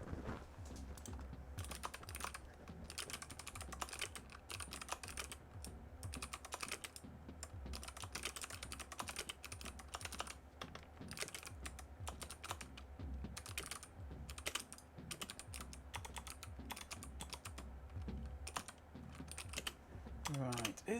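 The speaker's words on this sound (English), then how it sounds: "I need my keyboard on my computer at the moment." Steady, rapid key clatter comes from a computer keyboard at a vintage-computer workstation, continuous and close for about twenty seconds.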